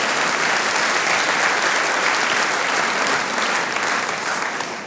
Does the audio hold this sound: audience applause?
yes